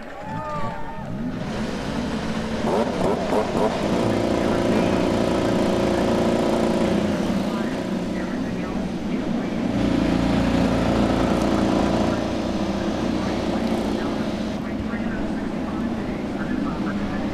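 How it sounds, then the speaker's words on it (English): IndyCar race car engines fire up and rev at the 2014 Honda Indy 200 at Mid-Ohio, a dense, loud mechanical roar that holds steady throughout and swells again partway through. "Drivers, start your engines!"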